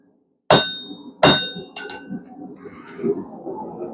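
A hammer strikes a chisel while slitting hot steel on an anvil for a blacksmith-made bottle opener: two sharp, ringing metallic hits, then a couple of lighter taps and faint scraping, close and alone.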